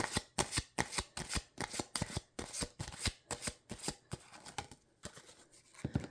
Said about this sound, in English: Let's see what Leo's, what's in the cards for the weekend for our Leos.